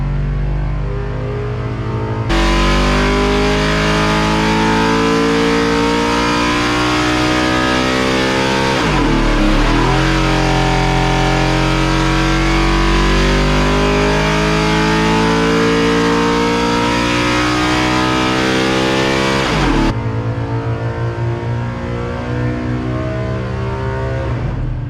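A 1990s Ford C3 NASCAR V8 on leaded race fuel revs hard in a dyno cell, roaring loud and close at sustained high RPM with two dips where it lets off and climbs again before dropping back to idle.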